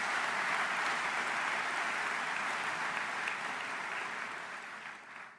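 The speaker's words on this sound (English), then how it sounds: "a big round of applause to Colin" A conference crowd gives a big round of applause, dense sustained clapping that holds steady and then fades toward the end, heard at a distance with no speech over it.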